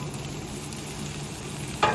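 Onions and bacon cooking on the lowest heat in a pan covered with a dome, a steady soft sizzle and crackle with a brief louder clatter at the very end, no talking.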